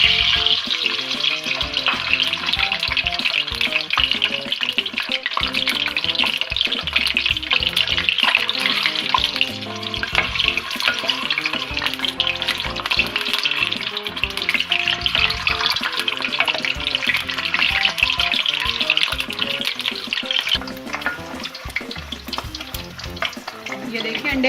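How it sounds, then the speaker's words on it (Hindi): Eggs fry in hot oil with a loud, sustained, crackling sizzle that holds steady and fades slightly at the end. "इसमें अब मैं अंडे फ्राई करूंगी।"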